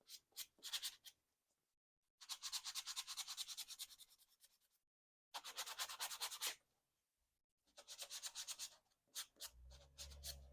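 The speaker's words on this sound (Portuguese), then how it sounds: "eu venho com uma lixinha comum de madeira para poder melhorar esse acabamento aqui e conseguir suavizar mais a curva." Fine wood sandpaper rubbed over a ceramic piece to smooth a curved edge: repeated close, dry, raspy strokes in bursts separated by brief pauses, with a low thump near the end.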